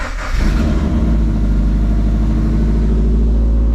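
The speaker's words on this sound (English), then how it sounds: "Get the car started up." A Subaru BRZ engine cranks and catches after a new DeatschWerks fuel pump install, then settles into a loud, deep rumbling idle with a slight rev, heard up close.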